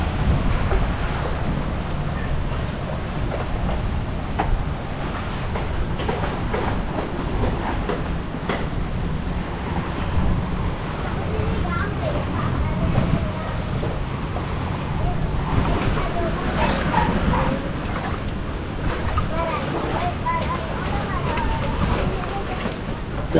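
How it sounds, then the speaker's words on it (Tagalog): Strong wind roars and buffets steadily atop a seawall by the shore, with a low rumble of surf underneath and faint voices in the background. "Lakas ng hangin dun sa tabi ng baybay, sa taas ng wall."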